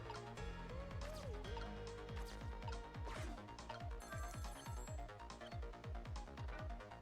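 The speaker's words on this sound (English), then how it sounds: "Somebody please answer the phone." A telephone ringing in the Ghost Trick: Phantom Detective video game, a high electronic ring repeating briefly over loud, busy game music with steady rhythmic beats, no voices.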